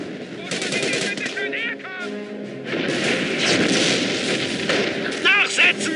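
Dense machine-gun bursts and rifle fire crackle through a World War II battle in the strategy game Company of Heroes, continuous and layered with booms, while soldiers' voices shout over the combat.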